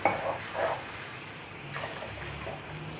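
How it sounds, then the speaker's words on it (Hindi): Water poured into a cooking pot for boiling rice, a continuous splashing trickle with faint sizzling hiss, close and moderately loud, with no talking. "अब मैं 2 कप जो हैं वो पानी के शामिल कर रही हूँ।"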